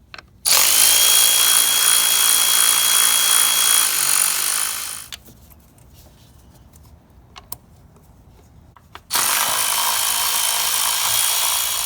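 A power tool whirs loudly and steadily while removing an ignition coil bolt on a Ford F-150 EcoBoost engine, pauses for a few quiet seconds with a couple of clicks, then starts again just as loud.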